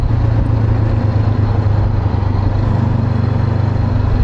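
A 2021 Honda CB500X motorcycle engine drones steadily at close range while riding, a loud continuous rumble with no let-up throughout.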